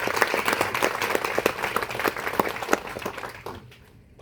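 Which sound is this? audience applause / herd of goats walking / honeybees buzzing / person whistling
audience applause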